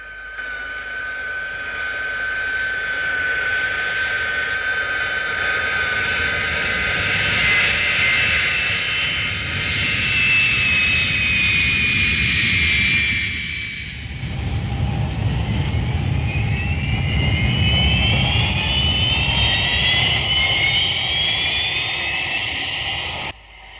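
A jet aircraft engine roars at full throttle in a Thunderbirds animated show, a loud sustained whine with rising turbine tones, briefly dipping midway before surging again, no talk over it.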